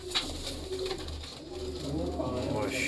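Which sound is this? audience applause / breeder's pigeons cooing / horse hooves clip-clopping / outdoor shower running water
breeder's pigeons cooing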